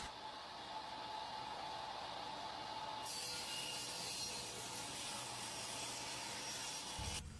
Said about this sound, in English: So right now I'm just going to rip everything down to about 3 1/2.